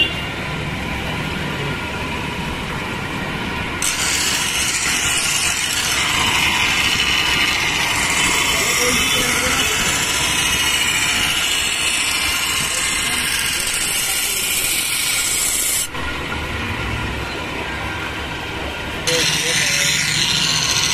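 A hedge cutter blade is ground to sharpen it on a grinder, giving a loud, continuous abrasive whine up close that briefly dips and then resumes.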